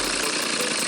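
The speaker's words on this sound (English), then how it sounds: "you can see just how low you can make this thing idle before it dies" A cheap garage-sale gas leaf blower engine idling very low, a close, steady rough drone with a slight rhythmic flutter throughout this brief moment, no voices.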